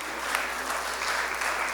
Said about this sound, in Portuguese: Wilson, palmas para o Wilson, grande percussionista, artista,